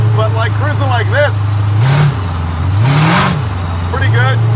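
A boosted 1940 Ford engine hums steadily while cruising, with a low drone that swells twice as the throttle opens, loud and close under ongoing conversation.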